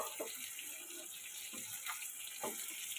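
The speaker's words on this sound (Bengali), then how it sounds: "এবার আমি জল দিয়ে দেব আমি একটু গ্রেভি গ্রেভি রাখবো" Water pours steadily into a pan of rohu fish curry, a continuous close splashing flow lasting a few seconds.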